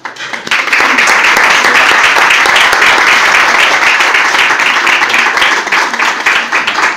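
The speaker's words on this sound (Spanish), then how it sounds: "vamos a recibir a Gloria Alonso, como ella se merece, pues con un aplauso como es natural" A lecture audience gives loud, dense, sustained applause to welcome a speaker, the clapping starting abruptly and holding steady for several seconds with no talk.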